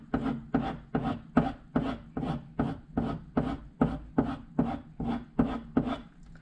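A woodworking gouge bevel is honed toward a polished, mirror edge, with steady rhythmic strokes, about a dozen evenly spaced rasping rubs repeating close and clear with no talking.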